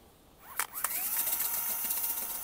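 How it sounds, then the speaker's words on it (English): A power drill fitted with a chimney brush spins up to clean a narrowboat's stove chimney, a rising whine after a couple of clicks, then a steady close whirring drone. "I've attached the brush to the drill"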